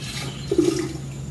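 Cold tap water runs into a container for hummingbird sugar water, a short, steady rushing splash heard close up.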